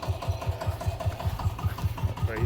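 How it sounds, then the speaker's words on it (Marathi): A tractor engine runs in a banana field being tilled with a rotavator, a steady low rhythmic chugging of regular pulses held at an even, moderately close level with no talk. "ट्रॅक्टर बी आहे लाईव्ह मध्ये"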